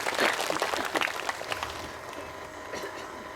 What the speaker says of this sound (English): Give a big clap to pyramid master.